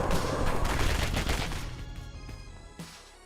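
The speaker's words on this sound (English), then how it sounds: "So this is a game where you're a bean, and you have guns." Rapid gunfire from the action video game Killer Bean, a loud dense burst of overlapping shots that gradually thins out, with one last distinct shot near the end.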